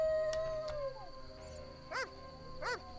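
Rabid dog in The Witcher howling in short, rising and falling wails, two distinct howls near the end over a quiet game background, with no talking.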